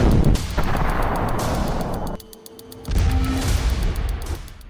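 Heavy explosions and booming fire as the army blows up enemy bunkers, loud and dense for about two seconds, then a brief quieter gap before another sustained burst of blasts.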